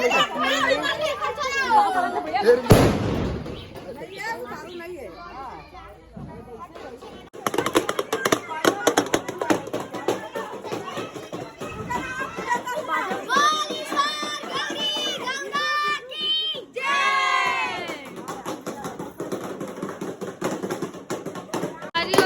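A lively crowd with children mills about at a Gauri Gaura festival procession, with overlapping chatter and shouts, occasional sharp bangs and a brief lull before the hubbub picks up again.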